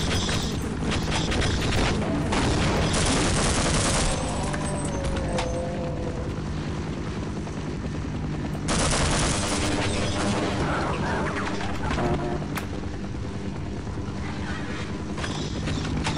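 Gunfire from a weapon in Half-Life 1 against soldiers, dense and loud with repeated sharp blasts clustered in two heavy bursts amid continuous game noise.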